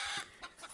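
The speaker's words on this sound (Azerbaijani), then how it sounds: "Toyuq da çığırır yani." A chicken on a small backyard flock of hens and a rooster gives a few short, soft clucks close by in under a second, with no talk.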